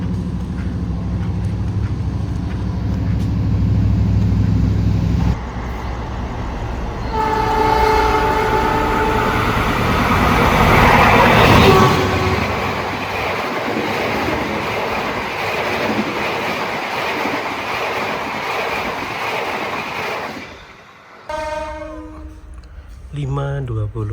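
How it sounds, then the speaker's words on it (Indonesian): An Indonesian passenger train, the Gajayana, rumbles past close by, a horn sounding as the carriages roll through with rhythmic clattering, then the noise drops away abruptly near the end. "karena kereta api Gajayana mau berangkat, mau lewat"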